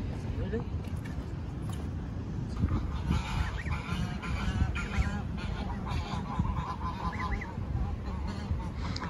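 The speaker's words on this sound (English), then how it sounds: "Ah, there's a duck also." Ducks on the water near Batumi call with repeated honking, quacking cries through the whole stretch, while people talk nearby over a constant outdoor background.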